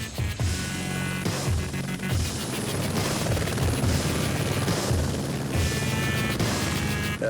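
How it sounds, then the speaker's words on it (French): A water-bombing firefighting helicopter flies nearby, its rotor chopping in a loud, rhythmic pulse over a steady engine roar that swells and eases slightly throughout, with no voices. "Philippe Delquier, pompier cadre d'hélicoptère bombardier d'eau, n'a que le temps de rejoindre le pilote dans son appareil pour aller faire des largages sur l'incendie"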